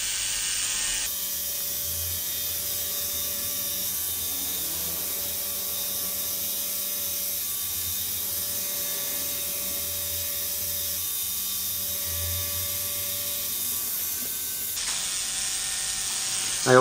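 Tattoo machine running steadily while lining skin, giving a continuous mechanical buzz with faint rattling pulses, close and even throughout, with a quiet hum underneath.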